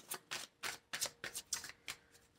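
Oracle cards are shuffled in a quick, regular run of about eight soft riffling bursts, close and fairly quiet, with no talk over them.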